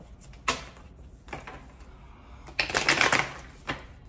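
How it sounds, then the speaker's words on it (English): Tarot cards being shuffled in short bursts: two quick riffles, then a longer, louder shuffle and a final soft flick, close by. "You hear me shuffling its cards"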